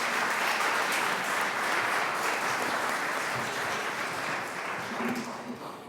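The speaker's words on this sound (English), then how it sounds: "let's give one last round of applause to all of our student presenters" An audience at a youth entrepreneurship challenge gives student presenters a round of applause: dense, sustained clapping from a sizable crowd at a steady level that tapers slightly near the end.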